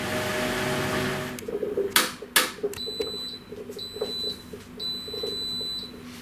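A Hotpoint NSWA943CWWUK washing machine sounds three short sets of high electronic end-of-cycle beeps at steady intervals over a low mechanical hum, preceded by a burst of running-water noise and a couple of sharp clunks.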